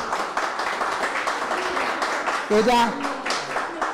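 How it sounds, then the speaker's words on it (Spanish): Applause rises for a girl at a Mother's Day tribute gathering in Biblián, Ecuador, steady crowd clapping running throughout, with a voice speaking briefly over it near the end. "un fuerte aplauso para Yadira"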